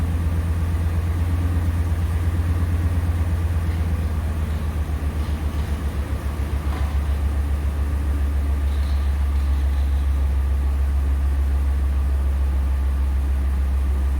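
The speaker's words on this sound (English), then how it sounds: "Still have a little bit of a misfire. You can feel it inside the truck." A truck engine idles with a slight misfire, a steady loud low rumble with an uneven, pulsing beat that carries on unbroken, with no talk over it.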